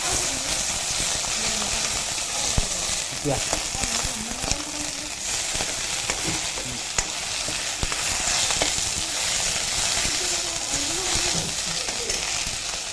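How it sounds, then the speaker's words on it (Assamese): Moringa leaves stir-fry in a pan with a steady, close sizzle and frying crackle, broken by scattered scraping stirs. "চজিনাৰ পাত অকণমান আমি এনে লৰাই দিছোঁ"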